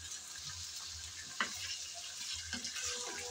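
Chicken frying in oil with onions, a faint steady sizzle with a few soft stirring knocks.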